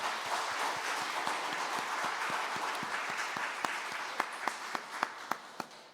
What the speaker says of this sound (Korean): 우리 모두를 위해서 격려의 박수 한번 합니다